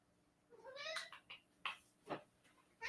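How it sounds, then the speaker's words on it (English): A kitten meows several times in quick rising calls, close and clear, with a few short rustles between the cries. "Where are my kittens? There's one. Hi, kitten."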